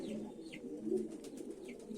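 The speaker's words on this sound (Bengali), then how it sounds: "তো আমরা কবুতরকে পানিটা দিয়ে দিই এই যে কবুতরকে পানি দিয়ে দিতেছি আমরা" Pigeons coo low and faint in a continuous burbling murmur while being given water, with a few thin chirps above and no talk.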